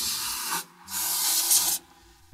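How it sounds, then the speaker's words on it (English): Two short bursts of hissing spray from a can of compressed air, close up, blowing dust off a Toyota hybrid battery cooling filter, separated by a brief pause. "spray the dust off."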